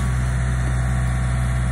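A machine engine labours steadily while slowly pulling a tough log toward a sawmill, a loud, close, low idling rumble with a constant hum and no voices.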